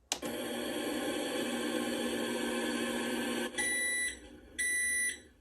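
A toy microwave from an American Girl doll play set gives a long, steady electronic tone, then two short, bright beeps to signal it has finished, with nothing else heard.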